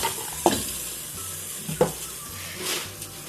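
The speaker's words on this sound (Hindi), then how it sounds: "ये अब हम सारा गोश्त डाल देंगे। अब ये हम दाल डाल देंगे।" Beef and lentils are tipped into a cooking pot for shami kabab, making two soft, close thuds about a second apart over a faint hiss and sizzle.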